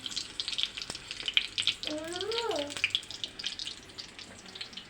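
Jackfruit rolls fry in hot oil with a steady, crackly sizzle full of fine pops, and a brief voiced sound rises and falls partway through.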